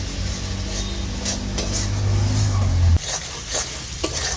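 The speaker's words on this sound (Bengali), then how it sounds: "এবার এই মশলাটা আমি ভালো করে কষতে থাকবো, যাতে আদা রসুন টমেটোর কোনো কাঁচা গন্ধ না থাকে।" Ginger, garlic and tomato masala for rajma sautéing in a pan, a steady loud sizzle with scraping stir strokes and a low hum underneath, briefly interrupted near the end.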